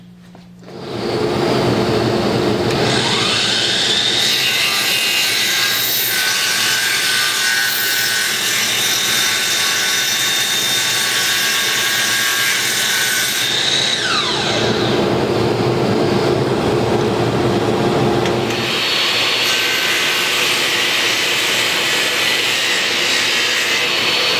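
A power saw cuts through four wooden table legs clamped together, a loud, close, sustained whine and rasp that runs almost continuously, with the pitch shifting partway through as the blade works into the wood.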